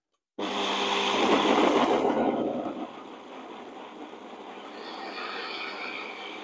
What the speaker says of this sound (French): mettre au blender le citron vert, le citron jaune, d'accord, l'aneth, les baies